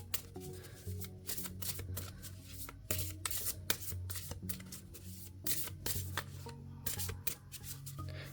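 Oracle cards being shuffled by hand, a steady run of crisp riffling flutters and soft slaps close by, with a low hum underneath and no talking.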